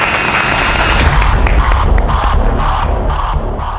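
A studio audience bursts into loud, dense cheering and applause for a host's entrance on a Crime Patrol television stage, the crowd noise filling the whole stretch at a steady high level.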